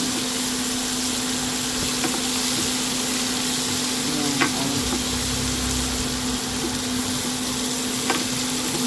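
Mung beans sautéed with chicharon in a pan make a steady, close, dense sizzle over a low hum, with a few faint clinks of a utensil.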